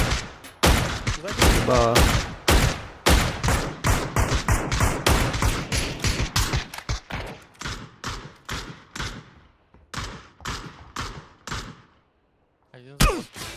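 Rapid, loud gunfire from the PUBG video game comes in dense bursts of sharp shots that gradually thin out, with a brief pause before a final volley; a voice speaks briefly.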